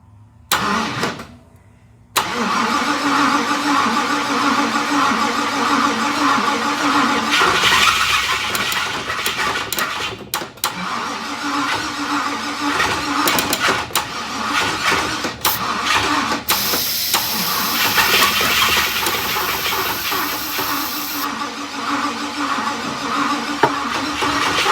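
A 1966 Cadillac Fleetwood engine cranks and then catches on its first start after a rebuild, settling into a loud, steady idle with some rough sputters and brief dips.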